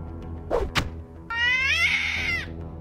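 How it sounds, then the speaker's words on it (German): A small cat in the video game Gothic II meows once, a drawn-out, high-pitched electronic-sounding mew following a couple of short thumps, set over a low steady background hum. "Das ist eine kleine Katze."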